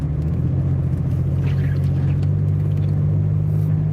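A car engine revs hard as it pushes through snow on a storm-covered road, producing a loud, steady low rumble with a sustained drone throughout and no talking.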